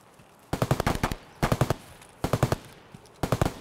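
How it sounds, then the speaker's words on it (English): Escape From Tarkov gunfire: four separate bursts of rapid automatic shots, about five or six rounds each, loud and sharp, with short quiet gaps between them. "Yeah, I know there's gunfire this way."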